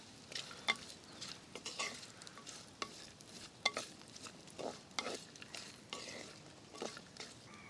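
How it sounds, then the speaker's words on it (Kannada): Grated coconut roasts in a little oil in a pan, giving a faint, soft sizzle with irregular stirring scrapes and occasional light clinks of a spoon against the pan. "ಒಂದು ಕಪ್ನಷ್ಟು ಕಾಯಿ ಹೂಳು ಹಾಕ್ತಾ ಇದ್ದೇನೆ ಸ್ವಲ್ಪ ಇದನ್ನು ರೋಸ್ಟ್ ಮಾಡು"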